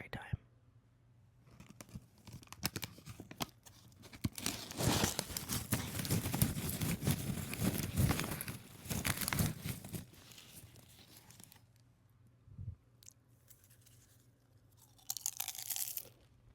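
Popcorn being opened and eaten as an ASMR snack, close-up rustling and crunching chewing in dense bursts, with quiet pauses and whispered speech around it.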